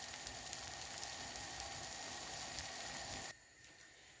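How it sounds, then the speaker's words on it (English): A paratha sizzles on a hot tawa in a soft, steady frying hiss that cuts off abruptly near the end, leaving quieter background. "Here the chapati I have made, the paratha, is sizzling on the tawa."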